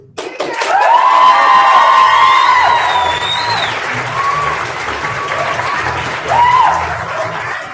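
A youth poetry slam crowd claps and cheers for a poet, with loud whoops and shouted voices riding over continuous applause that swells again near the end.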